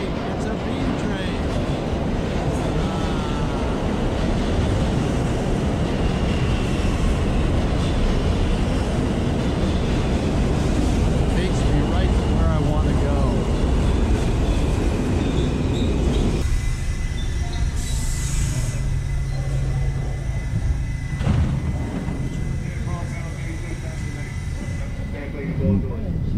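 New York subway B train rumbling loudly as it pulls into a station, wheels grinding and clattering, then slowing with a brief squeal and settling into a quieter hum.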